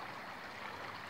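A brook lined by an old stone wall flows along the Mallory Trail in Connecticut woodland, giving a soft, continuous burble of running water that stays faint and even throughout.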